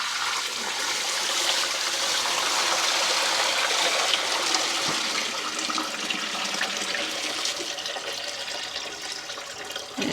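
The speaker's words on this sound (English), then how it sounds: "And now I'm going to dump the dirty water down my kitchen sink." Dirty fish tank water is poured down a kitchen sink in a continuous rushing, gurgling stream that stays loud and steady for about ten seconds before tapering slightly at the end.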